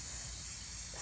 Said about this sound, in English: now I'm going to go ahead and spray paint them